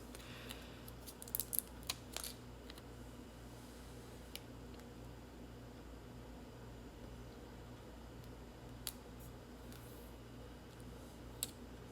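A paper label on a mason jar is trimmed with scissors: a quick cluster of close snips early on, then sparse single clicks over a quiet room background.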